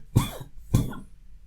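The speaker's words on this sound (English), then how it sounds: "Sorry about the cough." Two short, sharp coughs about half a second apart, close to the microphone in a quiet room, with no talking around them.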